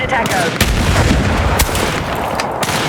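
Gunfire in the shooter game Battlefield 6 comes as loud, close, continuous bursts of rapid shots and booming impacts that hardly let up for three seconds.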